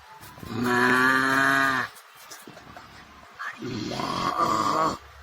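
Cow mooing at a village home, two long, loud, close calls, the first lower and even, the second rougher, separated by a quiet gap.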